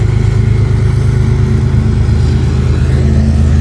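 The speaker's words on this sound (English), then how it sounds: "that's actually a Burlington Northern Santa Fe Railroad train going by, hauling a bunch of, I guess, car haulers" A BNSF freight train hauling car carriers rolls past, giving a loud, steady, close engine rumble with deep droning hum and no pauses or voices.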